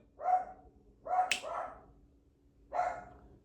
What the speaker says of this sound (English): My dog's barking at other dogs walking by.